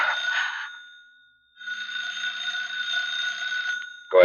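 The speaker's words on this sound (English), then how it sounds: "when the phone rang" A telephone rings twice in a radio drama set in an apartment, with steady electric bell trills separated by a short pause, sounding clear and fairly close with no talking over it.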